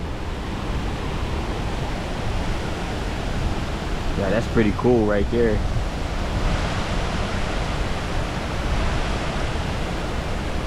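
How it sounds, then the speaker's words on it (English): The White River flows below waterfalls in Indianapolis as a steady, broad rushing wash of water that continues throughout, with someone speaking briefly in the middle. "Just hearing that river flow"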